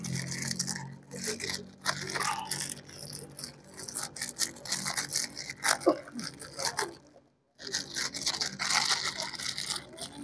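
A thick fishing-bait mixture for carp, scented with drops of geranium essence, is stirred by hand in a container, producing a continuous close-up rubbing and rasping scrape with one short pause.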